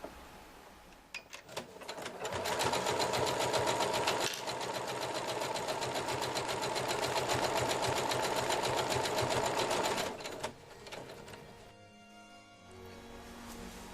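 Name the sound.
Story 3030 sewing machine automatically stitching a buttonhole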